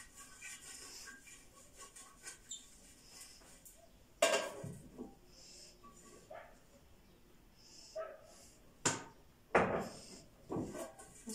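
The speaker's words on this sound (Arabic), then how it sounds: "هجيب الصينيه اهي وهدهنها زيت" A metal baking tray for pizza is handled and greased with oil in a home kitchen, giving a few sharp clanks and scrapes among quiet rustling, while a dog whimpers and yips faintly in the background.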